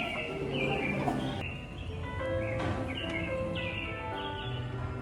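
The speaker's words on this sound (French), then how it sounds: "On entend les oiseaux." Small birds chirp and tweet repeatedly outdoors near a Disneyland Paris hotel shop, their calls scattered over a steady hum of background ambience with no talking.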